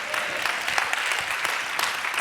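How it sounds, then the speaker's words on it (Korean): A church congregation applauds at a revival service, a steady wash of many hands clapping together, fairly close and continuous without any voices over it. "우리 하나님께 다 같이 영광의 박수 한번 드리겠습니다"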